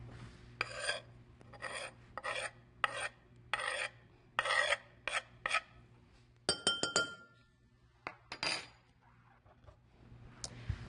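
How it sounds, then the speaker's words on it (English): A lime being zested on a hand grater, heard as a series of short, close rasping strokes in a regular rhythm, followed by a few light metallic clinks in an otherwise quiet kitchen. "I just run it across a grater like this"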